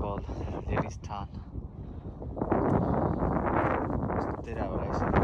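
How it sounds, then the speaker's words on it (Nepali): Strong wind gusts across a mountain lake shore at Ladies Tarn on Mount Hartz, Tasmania, rumbling and buffeting the microphone and growing louder midway, while a person talks close by. "धेरै हावा आइसक्यो यहाँनिर"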